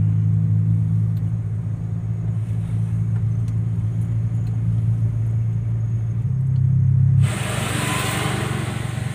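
A car engine holds a steady low droning rumble, the pitch stepping up briefly before a burst of broadband noise near the end as the driver shifts into third gear. Nobody speaks.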